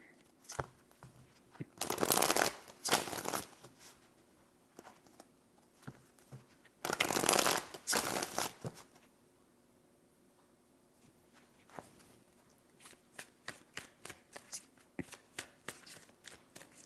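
Two brisk bursts of tarot card shuffling, each a rapid riffling rush, followed by scattered light taps and flicks of cards, close and fairly quiet.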